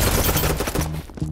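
Rapid automatic gunfire in the video game Battlebit Remastered, a dense loud burst of overlapping shots that breaks off briefly near the end and then resumes, with no talking.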